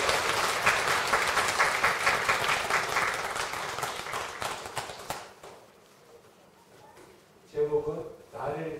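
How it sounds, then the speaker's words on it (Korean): Warm applause from a Won Buddhist dharma service congregation, dense clapping for about five seconds that thins and fades, followed by quieter background sounds and a brief voice. "뜨거운 박수로 우리 신창원들"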